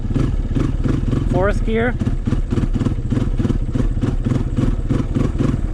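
A Honda CRF230 dirt bike pulls uphill in third gear at quarter throttle, its single-cylinder engine thumping in a steady, even rhythm close by, with a brief rising whine as it picks up speed and someone speaking over it.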